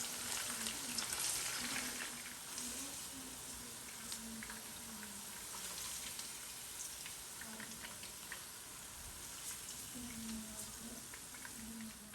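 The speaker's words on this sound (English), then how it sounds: "So I'm just going to let this brown up a little bit and then I'll take it out." Salt fish browns in hot oil, giving a steady close crackling sizzle with fine popping spatters that keeps going throughout, fairly quiet, with faint occasional clinks over it.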